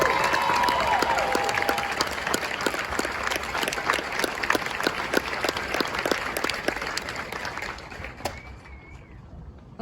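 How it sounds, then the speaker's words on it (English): Outdoor applause at a Marine Corps graduation ceremony for the Delta Company drill instructors, a broad crowd clapping that fades gradually over about eight seconds, with birds chirping in the background. "please join me in a well-deserved round of applause for the drill instructors of Delta Company"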